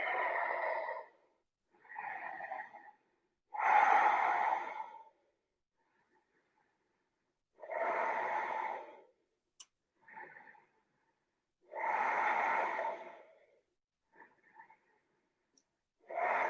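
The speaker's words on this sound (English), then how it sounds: "5 more deep breaths." Slow, deep breaths during a relaxing stretch, each long inhale or exhale clearly audible and close, separated by quiet pauses in an even rhythm.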